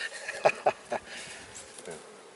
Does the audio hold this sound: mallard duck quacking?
no